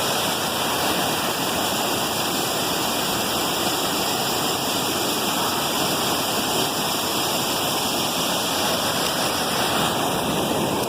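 Steady, continuous roar of rushing mountain waterfalls on the Mt. Whitney Trail, loud and close, filling the whole scene with dense broadband noise and no other sounds.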